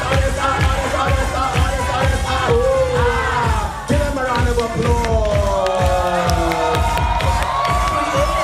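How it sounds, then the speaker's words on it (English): A crowd at a drag show cheers, yells and whoops loudly, with overlapping shrieks and excited voices layered over a steady roar of applause and noise. "Applause."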